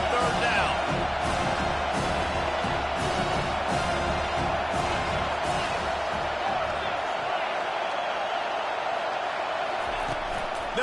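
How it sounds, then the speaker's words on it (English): A football stadium crowd at an LSU versus Penn State game roars steadily on third down, a dense continuous wall of noise with cheers and whoops swelling throughout, distant commentary faintly underneath. "Decibels rising as the crowd gets behind this defense on 3rd down."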